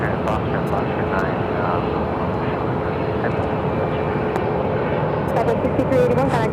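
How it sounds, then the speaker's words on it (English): A SkyWest-operated United Express Embraer E175 jet airliner arriving from LAX taxis at Phoenix Sky Harbor airport, its steady, continuous engine roar filling the scene, with radio chatter and voices talking over the top. "United Express SkyWest flight 5219 coming in from LAX, and it's E175LL."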